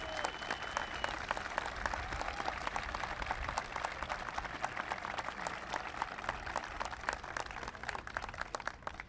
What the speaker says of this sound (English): Would you stand and just have a quick round of applause?